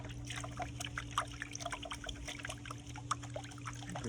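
Water trickles faintly through a dead water gold finisher prototype, a soft steady dribble with small splashy ticks over a constant low electrical hum.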